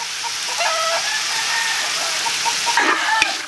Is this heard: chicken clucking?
yes